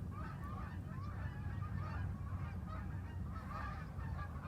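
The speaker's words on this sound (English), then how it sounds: "Oh, sounds like I have ducks or geese going by, doesn't it? A flock of them." A flock of geese honks repeatedly while flying past, many overlapping calls at a moderate distance above a low steady background rumble, with no talking.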